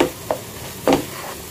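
Mashed boiled potatoes mixed in a hot pan, giving a few short, close scraping stirs over a soft sizzle, with no talking.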